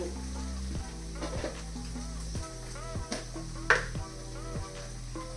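Raw cashews fry in hot oil with turmeric and chili powder, hissing in a continuous close sizzle with small crackles and a few stirring scrapes over a faint background hum.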